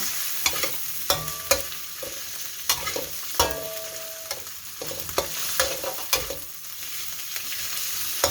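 Shrimp stir-fried over high heat in a pan with chili curry paste for a long bean dish, giving a steady close sizzle broken by repeated scraping clanks of the spatula and a short bright metallic ring.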